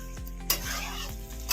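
Cauliflower and potato are stir-fried in a pan, heard as a close, sizzling rasp broken by a few sharp scrapes and clatters from the utensil, with no talk.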